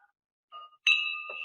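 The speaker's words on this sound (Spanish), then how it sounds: "dando la campana" A small bell is struck to close a Rotary club's virtual lunch: a single bright ding rings out and sustains with a clear, steady tone, preceded by a faint tap.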